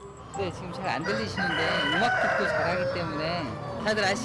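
Farm chickens kept with classical piano music playing, with a rooster crowing and hens clucking amid wavering tonal sounds, while a person talks over them at moderate volume.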